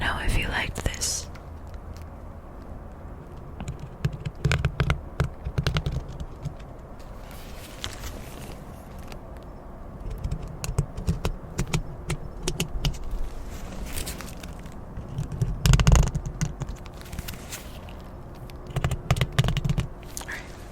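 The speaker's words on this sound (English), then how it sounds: "I'm gonna try some mic scratching that I've seen some other ASMR artists do" Close, crackly ASMR microphone scratching: irregular bursts of rough rubbing and tapping right against the mic, varying in intensity, with a few louder thumps and soft whispering in places.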